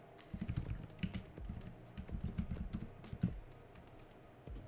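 A computer keyboard clatters with quick bursts of typing, close and fairly quiet, the key taps coming in uneven runs with short pauses and no talk.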